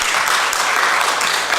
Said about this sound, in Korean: 자, 박수 한번 주십시다